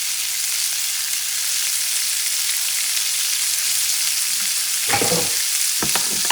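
Garlic frying in oil in a pan for gourmet shrimp sandwiches, a loud, even hiss of sizzling that holds steady, then a few scraping stirs near the end.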